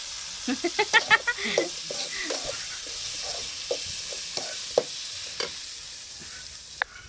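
Onions and tomatoes frying in a pan for a Tamil sundakkai fry, with soft sizzling under a string of close clinks and scrapes from stirring, some quick and clustered early, then sparser.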